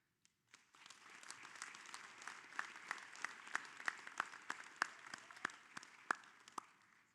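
Audience at a sports hall of fame ceremony bursts into steady applause, a dense wash of hand claps from a sizable crowd in a hall, with a few sharper individual claps standing out, lasting several seconds.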